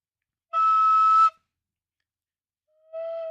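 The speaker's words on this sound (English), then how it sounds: "I picked up the tin whistle and kind of took to that a little bit more" Two sustained notes come from a tin whistle, pure and breathy. The first is higher and held about a second; after a pause, a lower, softer note follows. Both are close, with no talk over them.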